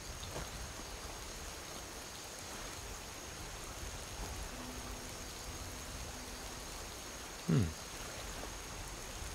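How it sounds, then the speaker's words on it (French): Steady, soft rushing of a small stream in the video game Skyrim runs throughout, with a brief louder knock near the end. "Avec un petit ruisseau."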